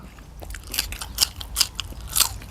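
Crunchy food bitten and chewed right at the mouth, a run of sharp crisp crunches in irregular rhythm, close and fairly quiet with no talking.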